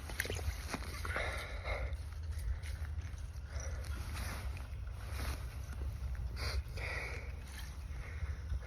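Motorboat passing on the water while fishing for Arctic char in Alaska, a steady low engine drone under wind and water noise, moderately distant and faint, with no speech.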